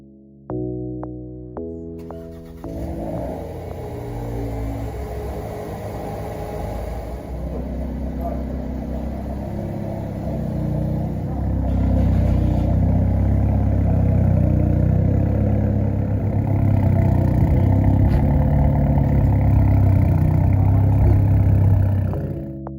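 A Hyundai i30N engine starts with a few short bursts and then revs loudly and steadily for a long stretch, building in intensity. The sound is close and heavy and fills most of the clip.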